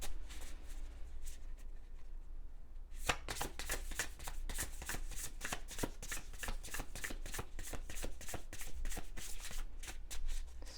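Tarot cards riffle and slap together in quick repeated bursts, close and crisp, after a quieter opening of a few seconds of light handling.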